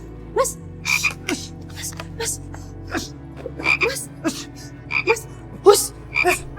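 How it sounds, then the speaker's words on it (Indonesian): A very large frog croaks repeatedly in a steady series of loud, nearby calls, each a short rasping burst spaced about half a second apart, with a low hum underneath. "Mas, ada kodok gede banget, Mas."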